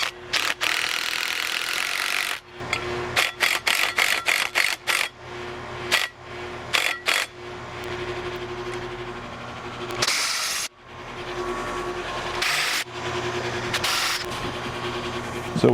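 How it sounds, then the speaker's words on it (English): An impact driver drives leg bolts while mounting a VEVOR retractable hose reel, first a steady whir, then a run of short rapid bursts, then longer hammering pulses, loud and close throughout. "now I have my impact driver. So we're gonna drive the leg bolts in"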